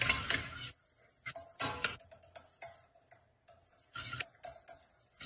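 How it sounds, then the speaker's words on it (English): Unflavored gelatin mixture stirred for homemade gummy bears: a run of light, clicking taps of a utensil against the bowl in an uneven rhythm, close and fairly quiet, with short pauses between strokes. "you're just gonna go ahead and start stirring that"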